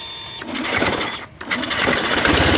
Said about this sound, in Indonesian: Coba di starter lagi.